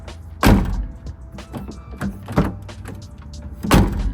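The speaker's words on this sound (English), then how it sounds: "I just realized if you slam this door hard enough," Door of a Nissan 350Z slammed shut, with three loud, sharp thumps spaced out across the moment and quieter handling clatter between them, all up close.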